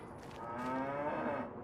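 A single drawn-out cow moo from a herd of cattle in the Farming Simulator 25 farming game, fairly close and rising then fading, with no talk.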